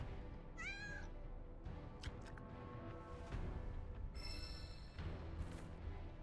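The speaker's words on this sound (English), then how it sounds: "Aw, look at the little tabby cat." A tabby cat meows in Final Fantasy VII Rebirth, a few short rising cries over a busy game soundscape of ambient music and effects, with no voices.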